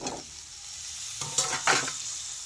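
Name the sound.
chopped tomatoes sizzling in pan with chicken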